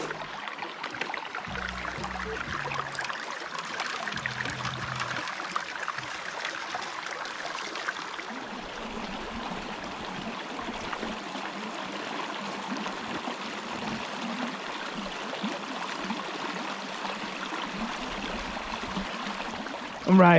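Water runs steadily through a homemade gold prospecting sluice box at Cache Creek, Colorado, a continuous soft rushing and trickling stream with faint low bumps early on.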